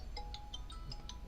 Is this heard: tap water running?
no